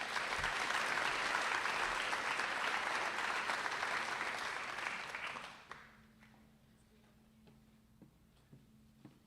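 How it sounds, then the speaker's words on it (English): Audience applause at a North Scott agricultural program spring banquet, dense and loud for about five seconds before fading out, leaving a few scattered claps over a quiet room hum. "Can everybody give a round of applause to welcome Jordan to the stage?"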